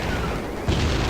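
A nuke detonating in the video game Titanfall Assault: a deep, rumbling boom that swells up abruptly and holds loud, with a low thud at its onset, heard without talk.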